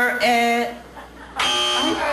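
A game show buzzer on a singing quiz show sounds in two loud, sustained electronic blasts, the second cutting in after a short gap.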